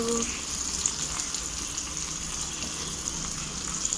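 Fish frying in a pan, a soft, continuous sizzle and crackle of hot oil, fairly quiet and steady throughout.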